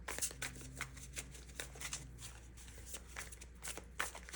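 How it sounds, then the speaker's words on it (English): A deck of tarot cards shuffled by hand, close riffling and flicking in quick bursts over a low steady hum, with a faint voice murmuring briefly early on. "I'm going to shuffle the rest"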